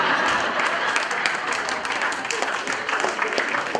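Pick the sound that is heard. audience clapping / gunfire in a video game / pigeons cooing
audience clapping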